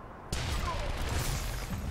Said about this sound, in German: Komm hier, knallen wir den einfach ab mit einer Granate.